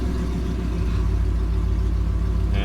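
A Ford Mustang S550 fitted with new headers and an intake idles close by, its deep, steady rumble constant throughout with no talking over it.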